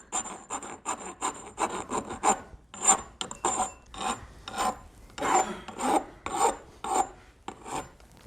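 A half round file rasps burrs off metal on a mountain bike part, in about a dozen close, steady back-and-forth strokes with short gaps between them.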